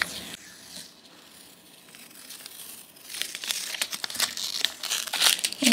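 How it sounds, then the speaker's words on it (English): Masking tape peeled slowly off the edge of a watercolor poppy painting on paper, faint at first, then a close series of crinkling, tearing rips growing louder toward the end. "at this point, we should be able to remove our tape"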